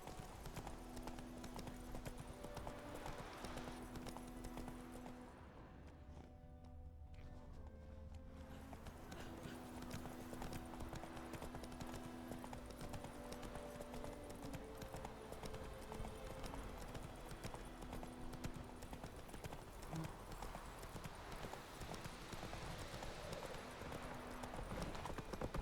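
Roach, a horse in The Witcher 3, trots with steady, continuous hoofbeat clip-clops under a layer of game ambience and music throughout, with a brief lull midway.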